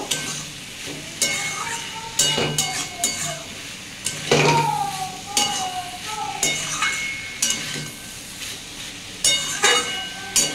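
Banana blossom curry sautéed and stirred in a pan, with a soft sizzle under repeated scrapes and clinks of a spoon against the metal, in uneven bursts throughout.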